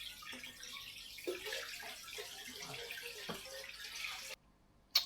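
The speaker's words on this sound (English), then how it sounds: "I like to top the water as deep as I can get it." Water running and splashing as an aquarium is topped up, a continuous trickling flow with small gurgles that cuts off near the end, followed by a brief clink.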